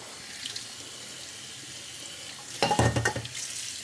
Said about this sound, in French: Le plat qui est un peu chaud, mais je le rince à l'eau froide.